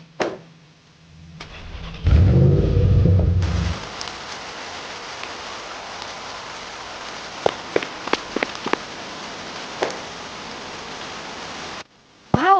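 Steady rain falls on a hard surface throughout, with a brief louder rumble near the start and a few sharp drips or taps in the middle before it cuts off near the end.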